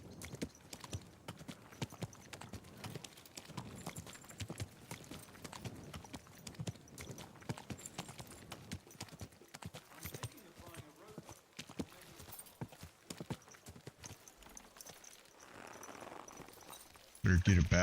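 Horse hooves clip-clop steadily on the ground in Kingdom Come: Deliverance 2, a continuous mid-level rhythmic patter running nearly throughout, ending with a sudden louder burst.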